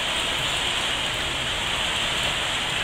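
Steady rain pours outside, heard from under an awning as a dense, even hiss that holds without a break.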